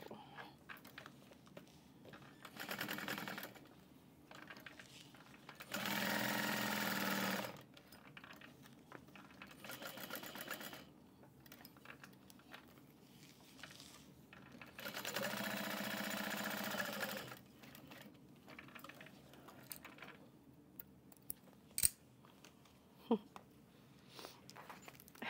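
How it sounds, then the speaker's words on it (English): Sewing machine quilting through the back panel of a fabric train case, running in two sustained bursts separated by quiet pauses with light handling clicks. "I am going to be quilting just like 1 or 2 times through this back panel"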